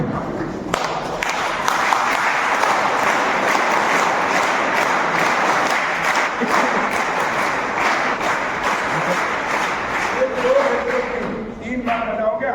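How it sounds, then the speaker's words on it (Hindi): A large audience claps loudly for a girl named Santoshi at a public gathering, a sustained, dense burst of applause close by with a few voices mixed in near the end. "जोरदार ताली बजाकर संतोषी का ताली बजाना होना चाहिए, ताली जोर से बजाना।"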